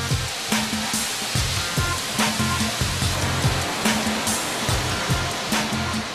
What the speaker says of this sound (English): this huge drum spins the material with water to sieve out any remaining pieces of stone